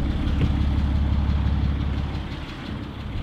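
A Chevrolet 2500 HD Duramax diesel pickup idles close by with a steady, deep, rumbling diesel clatter that stays loud and even, easing down slightly near the end, with no talking over it.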